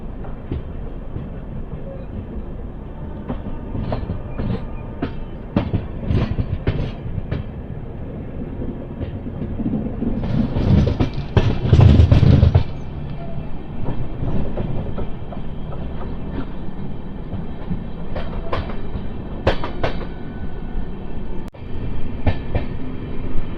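Palnadu Express with new LHB coaches runs along the main line near Nallapadu, Guntur, its wheels clicking steadily over rail joints, with a louder rush of passing track noise midway and no talk.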